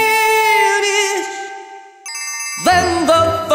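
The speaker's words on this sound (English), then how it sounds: "then the phone rings." A cartoon telephone rings loudly with bright electronic chimes, one sustained tone fading, then a second burst of ringing after a short pause.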